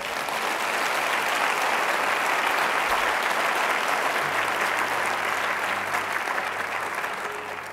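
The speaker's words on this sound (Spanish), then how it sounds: "Denle un aplauso al Señor." A church congregation at a Spanish-language worship service breaks into loud, sustained applause, a thick, continuous roar of many hands that fades slightly toward the end.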